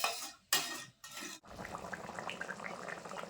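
Water pours into a pot of cooked spicy chicken kosha for gravy: two short splashing bursts with brief gaps, then a steady quieter bubbling and trickling as the liquid settles in the pot.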